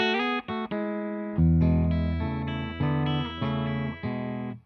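PRS Private Stock Super Eagle II guitar played clean with its preamp off: a few single notes, then sustained ringing chords struck several times in steady succession, bright and close with no talking.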